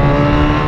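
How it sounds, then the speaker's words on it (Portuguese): A motorcycle engine on a street holds a loud, steady hum for a brief moment, close and continuous with no pauses. "O cara já ouviu o barulho da moto já?"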